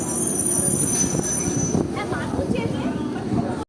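A train pulling into Madhyamgram railway station, a steady loud rumble of wheels and carriages with faint squeals, continuous and close, with people talking nearby.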